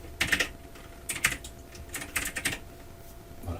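Several quick bursts of typing on a computer keyboard while entering text in a PowerPoint slide, clustered keystrokes close to the mic, separated by short pauses, no talk.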